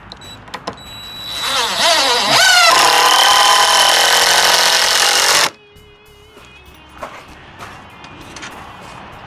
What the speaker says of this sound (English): I take one screw and I go ahead and put that in about 1 inch or so from the top